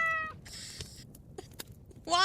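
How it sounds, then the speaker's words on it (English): A cat meows once at the end, close and fairly loud, after a stretch of quiet room noise with a few faint clicks. "there's a cat in the story who's meowing"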